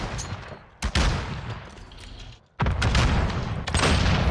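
A grenade launcher shot and a cooked grenade going off in Modern Warfare 2019 come as a sharp crack, then a sustained roar, a brief drop, and a second big loud blast rumbling on.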